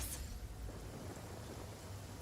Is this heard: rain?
yes